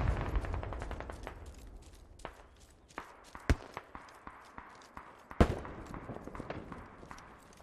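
Gunfire in the military shooter game Squad: scattered sharp shots and short bursts at varying distances, with one louder close crack, over a constant rumbling background and occasional footsteps.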